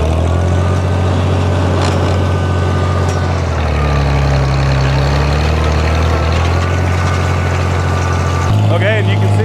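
A tractor engine drives a hay tedder through its PTO, a loud, steady low rumble close by that shifts in pitch partway through, with a change in tone near the end.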